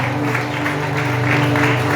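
A church congregation claps hands in a loud, steady rhythm over sustained music and a droning hum, with crowd noise running continuously throughout.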